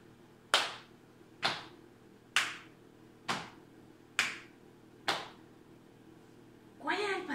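A children's AB rhythm pattern of single sharp percussive hits, six evenly spaced, alternating hand claps and slaps on the legs, close and crisp, followed by a brief rustle at the end.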